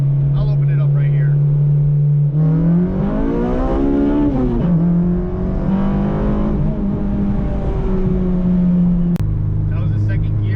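A car accelerating hard in second gear on a highway, engine note climbing steadily toward about 4,000 rpm, loud and close from inside the cabin, then dropping back to a lower drone after a gear change.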